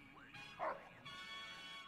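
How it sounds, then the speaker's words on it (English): A dog in Fallout: New Vegas gives a single short, happy bark, then soft whimpering sounds under a voice. "Got a little happy bark there."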